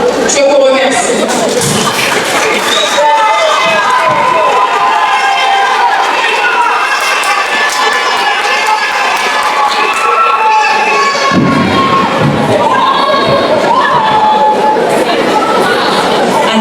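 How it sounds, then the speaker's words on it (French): A school audience at a French-language eloquence festival cheering loudly, with children shouting, excited crowd chatter and scattered thumps, a dense, sustained roar close by from start to finish. "est-ce qu'on peut applaudir très fort pour Saint-Joseph?"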